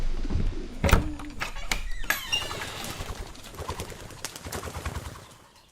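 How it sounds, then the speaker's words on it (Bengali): Pigeons coo and shuffle on a building's cornices and rafters, with a sharp flutter of wings near the start and soft rustling throughout. "এক গাদা পায়রা ঘুরছে কার্নিশে এবং কড়িকাঠে"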